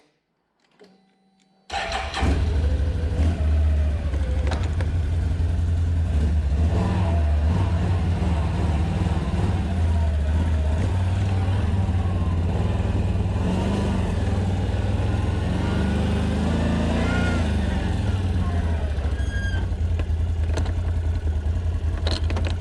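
A 2020 Can-Am Outlander XTP 1000R ATV after a few faint clicks: the engine cranks and fires up after a couple of seconds, then holds a loud, steady, close running drone with slight swells in revs.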